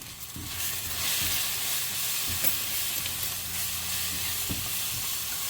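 Close, continuous sizzling comes from a pan as spices, garam masala and turmeric among them, heat for beef masala, with a few soft scrapes and knocks of stirring.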